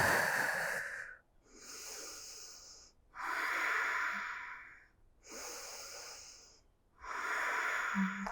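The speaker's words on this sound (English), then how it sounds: "3 breaths here." Slow, deep breaths during a power yoga flow, with four long airy inhale and exhale cycles in steady rhythm, close and fairly loud, each separated by a brief pause, with no talking.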